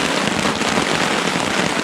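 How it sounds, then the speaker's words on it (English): Heavy rain pounds a tarp beside Sixth Lake in the Essex Chain Lakes, a dense, loud, unbroken hiss of drops with no voices. "the rain is really beating down on the lake"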